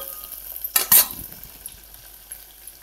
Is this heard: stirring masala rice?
yes